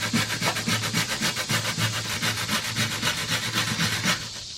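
A wheel brush scrubs carbon buildup off a weed eater's exhaust screen, giving a close, steady rasping scrape that rises and falls in quick, even strokes with no pauses.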